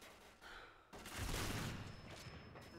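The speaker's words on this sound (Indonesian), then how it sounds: "Kita kedenger suara tembakan" Gunfire in a competitive shooter video game match where players use AWP rifles. Faint, muffled bursts of shots roll together into a continuous volley after a brief quieter start.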